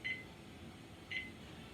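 Two short electronic beeps from a brewday timer being set, about a second apart, faint over a steady low hum from a Brewers Edge mash and boil system.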